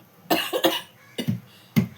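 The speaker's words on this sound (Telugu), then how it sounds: "దగ్గు కూడా వస్తుంది." A woman with a sore, congested throat coughing in three close bursts, the first a double cough, with quiet pauses between them.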